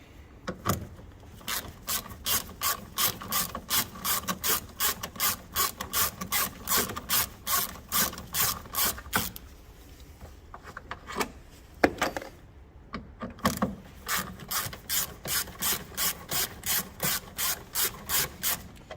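A ratchet backing out 5mm bolts on a MINI R50/R53 front door wing mirror, rapid rhythmic clicking in long bursts, close and clear, with a short pause midway before the clicking resumes.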